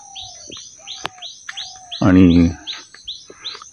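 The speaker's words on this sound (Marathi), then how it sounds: "सकाळीच पक्ष्यांची किलबिलाट." Small birds chirp and twitter steadily through a quiet village morning near Alibag, with a short spoken word and one brief louder sound partway through.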